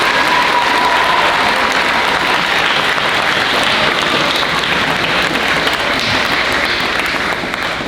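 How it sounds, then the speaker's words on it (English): Dense, sustained applause from a large school assembly audience fills the space, loud and steady for several seconds with no gaps. "let's give them a round of applause"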